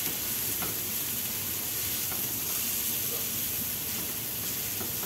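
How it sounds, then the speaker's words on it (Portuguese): Onion frying in a pan gives a continuous, even sizzle and hiss throughout, close and fairly loud, with no talk. "Deixa essa cebola murchar um pouquinho"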